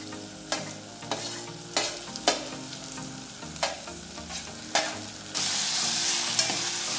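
Ginger paste and chopped cluster beans fry in a pan for South Indian style upma, with a steady sizzle broken by sharp, regular scrapes of stirring. The sizzle swells louder near the end, and no one speaks.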